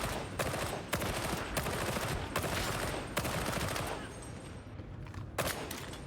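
Steady volleys of shots from a gun in Warhammer 40k: Darktide, with sharp cracks repeating every half second or so over a constant roar of battle noise, fairly loud and sustained.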